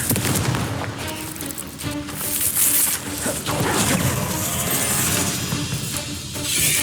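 Confringo fire-blast spell in Hogwarts Legacy, loud booming bursts layered over dense combat noise and crashing effects, sustained throughout with no spoken voice.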